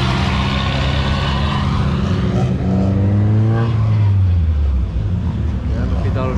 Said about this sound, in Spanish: Y aquí los coches ya bajando